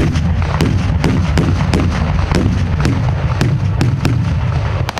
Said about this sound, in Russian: Взрывы и выстрелы прерывают счастливый бег времени